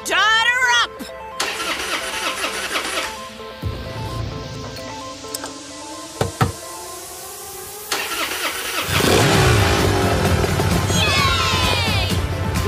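A car engine cranks and catches, then settles into a steady idle and runs. Chatter and bursts of a studio audience in a sitcom setting are heard around it.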